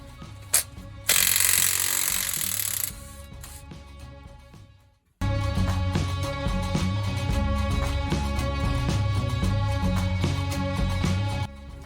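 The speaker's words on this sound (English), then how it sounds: "We'll take these bolts out around the gearbox now." A power tool removes gearbox bolts on a Morris LC truck under restoration, giving a loud burst of whirring and rattling, a short pause, then a long, steady mechanical drone from close by.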